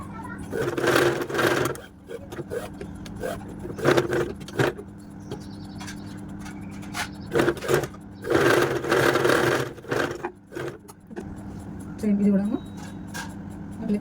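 A sewing machine runs in bursts while stitching kids' frock pieces together, its close whirring rising and stopping several times under someone talking throughout.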